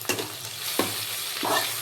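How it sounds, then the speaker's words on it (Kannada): Cumin seeds frying in hot oil for Hyderabad chicken masala, a steady close sizzle broken by three brief stirring scrapes of a spoon in the pan. "ಈ ಥರ ಚೆನ್ನಾಗಿ ಎಣ್ಣೆಯಲ್ಲಿ ಫ್ರೈ ಮಾಡಿ"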